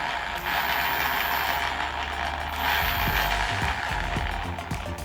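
Bafang Ultra mid-drive e-bike motor spinning under a throttle test, a steady close mechanical whir with ratcheting, gear-like clicking that swells briefly midway.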